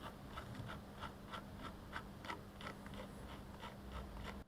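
The transparent scroll wheel of a Deepcool MC310 ultralight gaming mouse, with its rubber insert, is rolled close up, giving a soft, quiet ratcheting flutter of faint rapid ticks with no talking.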